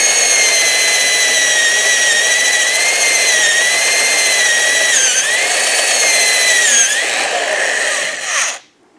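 A power drill bores steadily through a Pro Taper motorcycle handlebar on a Yamaha MT-10 using an 11/16 bit, a loud sustained whine with slight pitch dips as pressure shifts, cutting off abruptly near the end.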